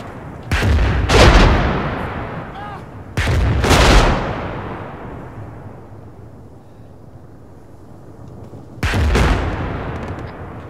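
Heavy gunfire in a military shooter game comes from the left in three booming bursts, loud and close, each leaving a long rumbling echo that fades between shots.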